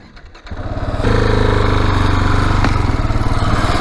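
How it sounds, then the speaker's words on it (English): A 2016 Husqvarna 701 motorcycle engine fires up and settles into a loud, close, steady thumping idle with a rhythmic pulse. "We'll be on my 2016 Husqvarna 701."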